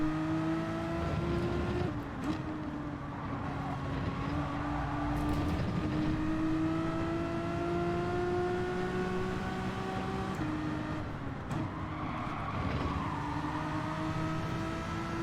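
Race cars in Gran Turismo 7 battling wheel to wheel, engines droning and rising in pitch as they accelerate, with a second car's engine overlapping and brief tyre and contact noises, no voices.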